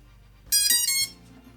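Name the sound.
FPV drone ESC startup beeps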